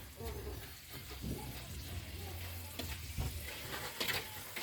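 Potatoes frying in oil for crispy fries, giving a steady, soft sizzle close by under a low background hum, with brief stirring noises.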